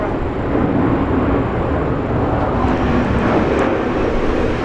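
A China Eastern airliner taking off from runway 19 right at Brisbane International Airport, a steady broadband engine roar that holds loud and constant throughout, with no voices.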